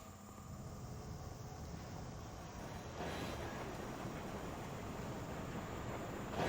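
A steady low rumble and whoosh of the Deeprun Tram riding through its tunnel in Classic World of Warcraft, a continuous rail hum that swells slightly halfway through, with no talking.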